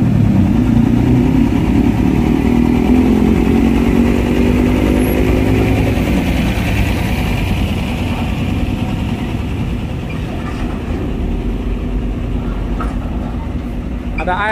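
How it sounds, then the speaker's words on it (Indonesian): An ALS intercity bus on the Medan–Bogor route moves through heavy traffic at Merak port, its low engine rumble steady and close amid surrounding vehicle noise, with voices talking over it. "Ada bis lagi tuh guys, ada bis apa tuh?"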